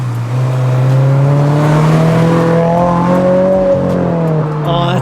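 A 2022 Toyota GR86 sports car with a Greddy Evo GT catback exhaust revs steadily, its deep droning note rising and falling, loud and close, with no talking.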